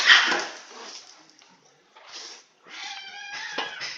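Cats meow in a garage during work on an S10 8.5/8.6 rear axle, a few whiny cries close by, with a longer drawn-out meow near the end.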